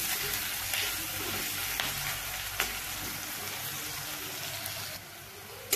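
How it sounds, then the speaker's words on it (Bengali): Sliced onions with salt frying in a pan for a fish roe curry, a steady soft sizzle throughout with a few brief stirring clicks, close and fairly quiet, with no talking. "এবার আমি নুন মিশিয়ে পেঁয়াজগুলোকে ব্রাউন করে ভেজে নেব।"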